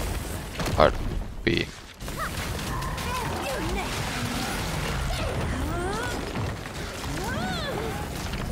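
Explosions go off during a Caspiel boss fight in the video game Lost Ark: two loud, sharp blasts in quick succession near the start, then a dense, continuous wash of combat effects and whooshing tones.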